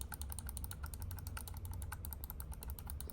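Rapid, crisp clicks from the buttons of a GameSir G7 Pro controller, pressed repeatedly in a fast, continuous stream at close range with no talking.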